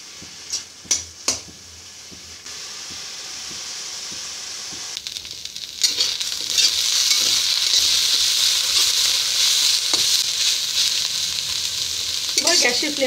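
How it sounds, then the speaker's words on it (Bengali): Neem leaves fry in mustard oil in a wok over a high flame. A few sharp clinks come first, then the sizzle swells into a loud, continuous crackling hiss with stirring scrapes. "ছেড়ে নিম পাতাগুলোকে একদম মচমচে করে আমি ভেজে নেব।"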